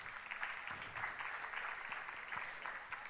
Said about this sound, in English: Give another round of applause for that stunning performance.